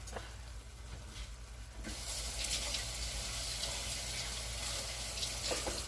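A tasting spoon rinsed under a running kitchen tap, a steady hiss of flowing water that swells louder midway and continues over a low background hum.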